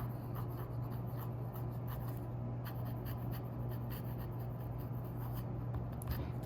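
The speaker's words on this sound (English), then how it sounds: "Reverse writing" A small steel-nib Kaweco Perkeo fountain pen is written upside down on paper, giving a continuous close scratchy rubbing with a steady hum underneath and no pauses.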